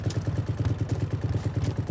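A motorcycle engine idles close by with a steady, low, lumpy putter and even pulses, no voices over it.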